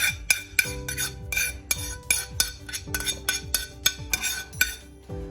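Leftovers are mixed with raw onion and potato in a bowl for bubble and squeak, with a spoon clinking against the bowl in a quick, steady series of sharp close taps.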